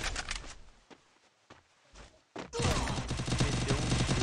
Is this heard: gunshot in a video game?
yes